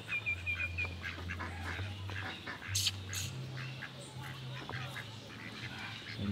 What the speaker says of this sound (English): Some duck